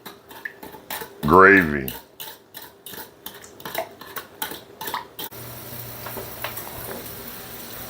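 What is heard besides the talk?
stirring brown sugar sauce together in a pot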